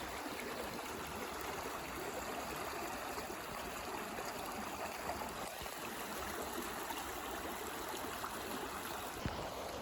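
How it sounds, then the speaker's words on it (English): Water of a gentle woodland brook trickles and babbles continuously over stones, a soft, steady bubbling with no voices. "It's just a really gentle babbling brook."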